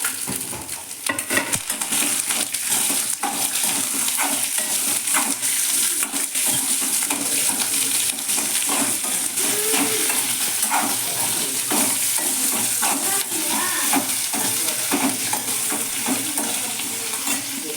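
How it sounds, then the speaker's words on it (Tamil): Tamarind, garlic and coriander frying in a pan for a garlic and coconut chutney, with a loud continuous close sizzle and a steady rhythm of quick stirring scrapes and taps throughout, no talking. "கொஞ்சம் வறுபட்டுருச்சு இந்த புளி பூண்டு மல்லி எல்லாம் போட்டுடலாம்"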